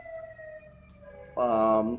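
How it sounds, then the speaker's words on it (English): A steady wailing siren sounds in the background, then a louder, harsher siren tone rises briefly near the end. "There's sirens going."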